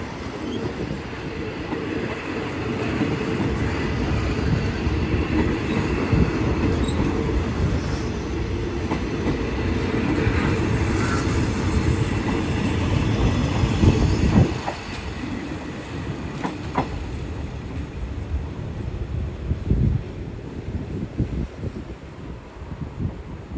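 A suburban commuter train at Bang Sue Junction station in Bangkok rumbles loudly nearby, with rolling wheel noise, faint squeals and clicks of wheels over rail joints, a steady drone that eases slightly midway.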